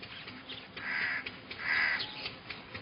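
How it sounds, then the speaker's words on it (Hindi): A crow caws twice, loud and close, with short harsh calls standing alone outdoors in a village setting. "घर पर कोई कौवा कांव कांव करे तो उस घर में मेहमान आता है"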